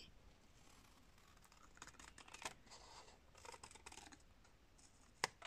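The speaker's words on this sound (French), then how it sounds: "je vais venir couper le long de ces arcs de cercle que nous avons tracés avec le compas" Scissors snipping along traced compass arcs in paper, faint quiet crisp cuts with a couple of sharper snips near the end, close and without talk.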